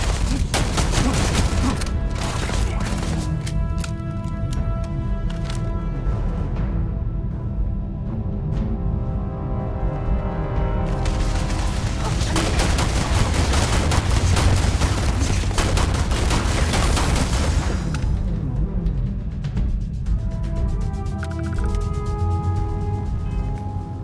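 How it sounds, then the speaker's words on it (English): Weapon fire in the space RPG Starfield, shotgun blasts within a dense, continuous barrage of gunfire and booming impacts, loud and sustained throughout with little letup. "Oh, it's a shotgun."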